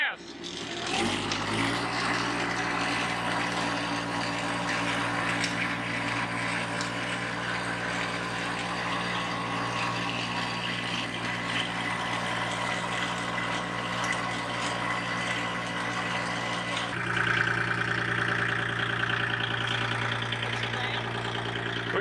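Kubota L2501 compact tractor engine running steadily and loud, its diesel drone rising in a sustained rev with a brief surge near the end, close by without speech.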